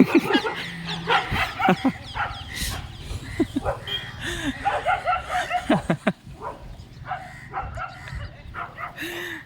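Several dogs bark and yip in quick, excited bursts, fairly close, with voices talking in between.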